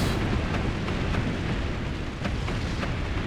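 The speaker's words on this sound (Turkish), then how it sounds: "Bu büyük top aşağıdaki arkadaşın da sonu olur." Heavy cannon fire in the Forts multiplayer strategy game, a dense continuous barrage of booming explosions and bursts, loud and sustained with no pauses.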